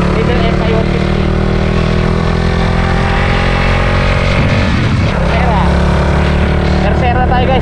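A 2024 Suzuki Raider FI 150 motorcycle accelerates in first gear, its engine roaring loud and close throughout, with a rising rev and strong wind rumble.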